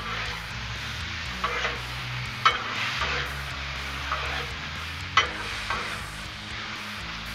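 Food tossed with Buffalo Blue seasoning sizzles steadily on a Blackstone griddle while a spatula scrapes and stirs, with a few sharp clanks standing out over the continuous frying hiss.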